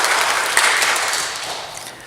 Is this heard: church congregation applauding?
yes